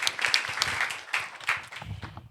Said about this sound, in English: Let's clap for our brother for that beautiful question.